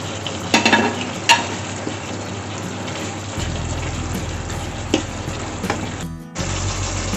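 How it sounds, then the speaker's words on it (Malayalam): Beef stew with curry leaves frying and being stirred in a pan in a Kerala-style kitchen, with a steady close sizzle, a few sharp clinks of the spoon against the pan, and a brief dip before the sizzle resumes. "നന്നായിട്ടൊന്ന് ഇളക്കി കൊടുക്കാം. ഇനി കറിവേപ്പിലയും കൂടി ഇട്ട് കൊടുക്കാം."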